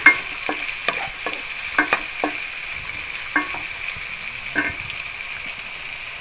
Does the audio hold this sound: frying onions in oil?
yes